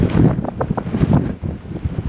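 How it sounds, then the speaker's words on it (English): Heavy wind buffets the microphone in loud, uneven rumbling gusts, with no voices. "It is horribly windy"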